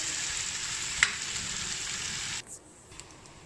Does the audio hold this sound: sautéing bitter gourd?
yes